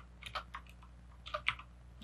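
Keys on a computer keyboard tapped in two short, quiet bursts of a few strokes each, close by, with a pause between and no talking.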